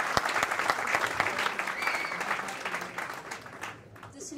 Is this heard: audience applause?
yes